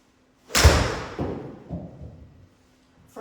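A 7-iron strikes a golf ball off the toe with one sharp, loud impact whose sound trails away over a second or two, followed by quiet.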